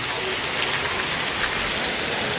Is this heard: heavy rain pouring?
yes